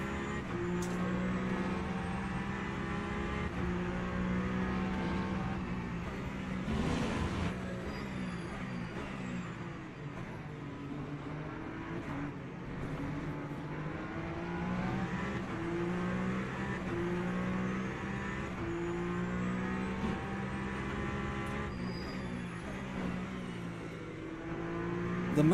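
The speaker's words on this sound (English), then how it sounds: "The Peugeot launch." Peugeot race car in Le Mans Ultimate launching from the start, engine droning steadily with rising and falling revs and overlapping whine for the whole stretch, loud and continuous.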